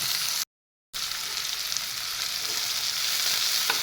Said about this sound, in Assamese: পিঁয়াজখিনি আৰু জলকীয়া কেইটা দি লওঁ